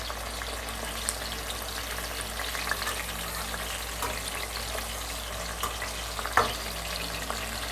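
Stuffed tinda, Indian round gourds, roasting in a covered pan on the stove, giving a steady, quiet frying hiss throughout with a couple of brief clinks near the end.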